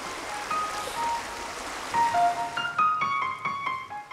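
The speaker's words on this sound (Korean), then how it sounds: "계곡은 나지막한 물소리와 새소리로 여행 친구들과 기꺼이 얘기를 나눕니다" Water from the Jindong valley stream in Inje flows gently as a constant soft wash, with bright chirping birdsong layered over it in the second half.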